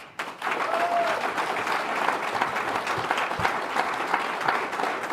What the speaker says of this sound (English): So please, a rousing applause.